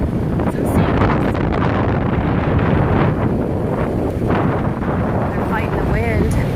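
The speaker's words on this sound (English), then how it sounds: "It is incredibly windy today." Strong wind buffets the microphone at Galveston beach on a hot August day, a loud continuous roar with gusty surges throughout, while voices talk faintly underneath.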